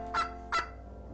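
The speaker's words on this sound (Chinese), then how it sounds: "火鸡嘟囔着" A turkey gobbles twice in quick succession, two short, close, clear calls standing alone with no talking.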